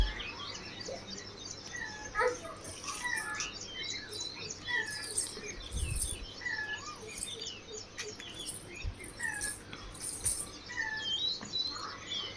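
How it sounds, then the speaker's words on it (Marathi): A cuckoo calls outdoors at a moderate distance, repeated whistled notes scattered over a quiet morning background with a couple of soft thumps. "किती छान असा कोकिळेचा आवाज या इकडे ना ऐकायला येतोय"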